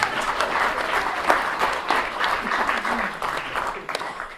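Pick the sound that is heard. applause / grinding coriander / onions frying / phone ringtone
applause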